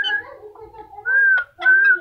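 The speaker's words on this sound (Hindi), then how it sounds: "अच्छा सीटी बजाओ" A pet parrot whistles several clear, sustained tonal notes close to the listener, loud and distinct with short gaps between them and no talking.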